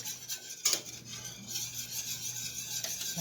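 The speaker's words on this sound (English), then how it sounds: "The main thing with roux is just to keep stirring it for the most part" A spoon scrapes steadily around the bottom of a pot of roux for smoked mac and cheese, with a near, continuous raspy rubbing and a brief louder scrape partway through.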